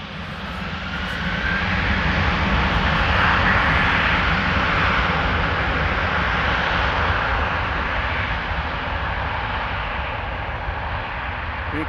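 Jet airliner spooling up for takeoff at Amsterdam Schiphol, its engines building into a loud, sustained roar that peaks early and holds with a broad hiss before easing slightly.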